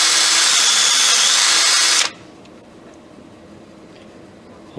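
A power drill whirs steadily while enlarging a hole in the nose cap of a Kibler Colonial flintlock rifle kit, a loud close burst that stops abruptly about halfway through, leaving quiet room tone.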